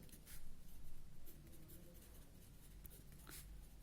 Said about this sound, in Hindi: तो हम यहां पर लिखेंगे